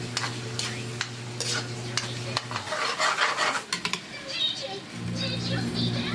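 Garlic and ground beef frying in oil, a light continuous sizzle broken by scraping spoon strokes against the pan, with a brief quieter gap partway through.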